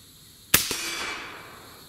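A single round cracks from a Lone Star Armory TX-15 rifle in 6.5 Grendel fitted with an H3 buffer and red spring: one sharp, loud report with a quick secondary clack, then a fading ring.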